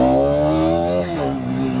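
Bajaj Pulsar RS200 motorcycle engine revving close by, a steady high rev that holds and then dips slightly before settling, loud with no talk over it.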